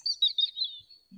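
A bird chirps in a sound-guessing game for learners with visual impairment. Several quick, high tweets come in a bright burst and then fade, with no voices over them.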